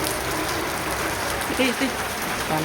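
Steady rain falling and pattering on a surface near a Ganpati temple, with a few brief voices breaking through the downpour.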